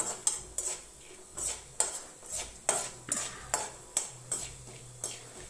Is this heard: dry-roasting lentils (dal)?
yes